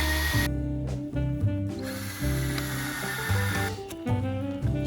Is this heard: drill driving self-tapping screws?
yes